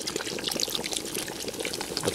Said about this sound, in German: So, jetzt gießen wir noch ein bisschen auf, ein dunkles Bier.